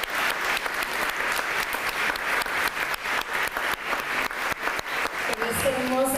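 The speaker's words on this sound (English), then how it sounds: "We're going to do now the whole round of applause for all of us." Forum audience at a hybrid information literacy event gives a round of applause, dense rhythmic clapping swelling in regular pulses for several seconds, fairly loud and close, with a voice cutting in near the end.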